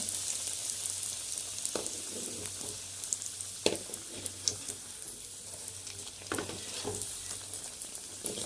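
Samosas frying in hot oil in a home kitchen, a soft steady sizzle with scattered pops and crackles, fairly quiet and close, with no talking.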